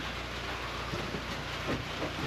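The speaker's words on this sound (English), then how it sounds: "Starting to rain." Steady rain falls on surfaces outside a homestead garden, a dense even hiss with scattered droplet patter and a few soft low thumps, close and constant with no voices.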